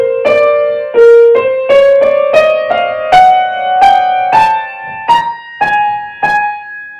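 Solo piano playing Liszt's Consolation No. 3, a steady sequence of clear, loud, sustained notes struck one after another in a slow, even rhythm, with no voices.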